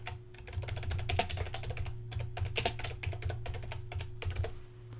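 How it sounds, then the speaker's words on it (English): Rapid, irregular keystrokes on a computer keyboard, close and clear, tapping away steadily for several seconds over a low steady hum with no talking. "So if I type in"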